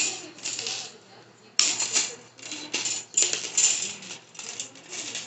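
Chain link fence wire being cut into pieces, a series of close, sharp metallic snips and clinks in an uneven rhythm, with one hard snap standing out.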